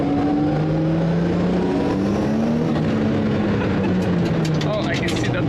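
A newly built race car with no rear window out on its first test drive, engine droning and shifting pitch as it accelerates, heard from inside the car at close range with a voice talking over it.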